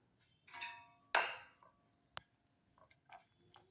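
Chopped carrot, onion, coriander, ginger, green chilli and curry leaves being mixed in a bowl, for bread adai: a few close, scattered clinks and scrapes with quiet gaps between them and no voices.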